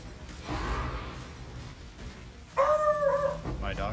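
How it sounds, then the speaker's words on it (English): A dog barks and yips up close in a couple of brief, loud bursts, with a pitched whine-like bark near the end, heard over low background sound. "My dog says bork a lot."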